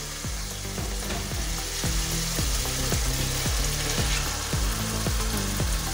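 Mash dal stirred into fried masala in a pan gives a loud, continuous sizzle broken by regular rhythmic scrapes of a spoon, about two per second, with no talking.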